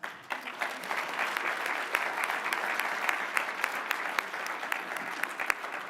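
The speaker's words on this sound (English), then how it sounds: "Let's give our keynote a round of applause." An audience claps steadily in sustained applause, dense and even throughout, with a few sharper claps standing out near the microphone.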